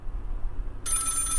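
A phone call in a FNAF fan horror game starts to ring, a bright electronic tone cutting in abruptly after a low, quiet hum.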